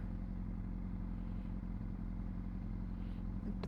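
A Honda CBR600RR motorcycle ridden by a beginner on the way to school, its engine a steady mid-pitched drone with faint clatter, no voices heard over the continuous running.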